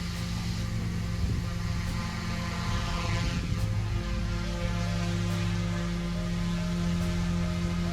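An OMP M2 V2 RC helicopter lifts off nose in, its rotor and motor giving a steady, loud whine and buzz that holds close and constant throughout, with no voices.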